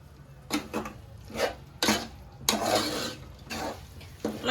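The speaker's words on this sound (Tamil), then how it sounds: "இந்த மசாலாவை கொஞ்ச நேரம் வதக்கணும்." Ground raw masala paste for a carrot beetroot curry being stirred and sautéed in a pan, with repeated scraping and clinking strokes of a spoon against metal at an irregular rhythm, fairly close, with no talk.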